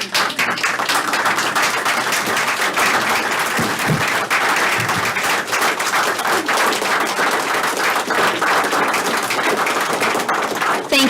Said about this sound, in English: Can we let them stand and us clap for them one more time?